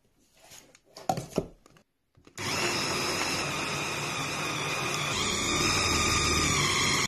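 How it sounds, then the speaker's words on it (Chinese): An electric meat grinder minces fatty pork with chunks of scallion and ginger, a steady loud whirring drone that starts after a few brief clunks and handling noises and runs on without pause. "这个绞肉机好就好在肥肉也能搅得特别的烂"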